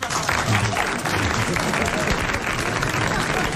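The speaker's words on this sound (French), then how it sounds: "tout de suite vos applaudissements" Studio audience applause on a 1981 French television show, a dense, steady burst of clapping that fills the clip at close range.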